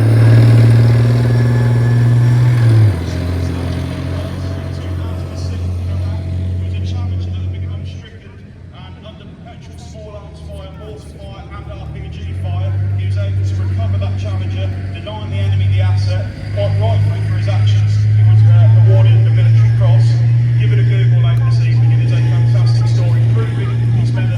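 A Challenger armoured repair and recovery vehicle drives past at a tank show, its loud, deep engine rumble dropping briefly before surging back strongly, with talk audible over it throughout.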